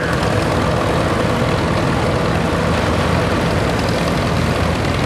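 Big International Harvester W40 tractor with a six-cylinder engine running at a Red Power Round Up show, a dense continuous low rumble at close range, loud and steady throughout.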